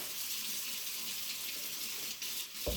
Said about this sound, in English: So, soap, warm water, scrub it as best as you can.